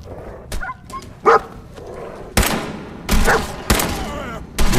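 In the video game Fallout 4, a dog barks in sharp bursts amid loud, close gunfire, with several heavy shot-like impacts spread across the moment.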